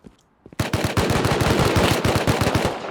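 Rapid automatic gunfire in the survival video game Rust, with a sharp onset after a near-silent start and then a dense, steady burst of loud, evenly spaced shots.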